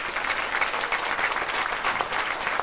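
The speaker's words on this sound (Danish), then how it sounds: "hvis vi nu klapper lidt, så er jeg helt sikker på, at vi kan få Kiki til at komme ind og hjælpe til os." An audience applauds steadily at a brass band concert at a hotel, with dense, continuous clapping that stays close and fairly loud, without pause, across the whole stretch.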